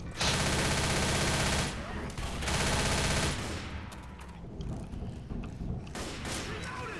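Rapid gunfire from Left 4 Dead, with loud sustained automatic bursts and heavy thumping shots that come in sections, then scattered shots and game noise behind.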